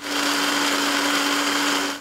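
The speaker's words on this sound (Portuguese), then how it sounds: "Para começar, os grãos são colocados no liquidificador." A kitchen blender grinds soybean grains in one loud, steady whirring burst with a constant motor whine, running about two seconds before winding down.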